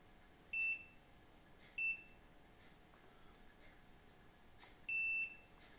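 Multimeter continuity tester on an iPhone 6S logic board, giving three short, sharp electronic beeps over a quiet background hiss.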